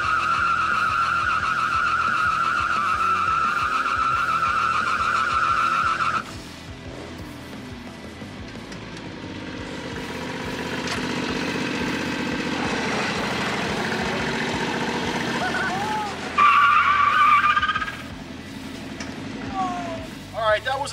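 Turf tires spinning in a smoky burnout, a steady high engine roar and tire squeal held in third and fourth gear, loud and close, cutting off then surging again with a sharper squeal near the end.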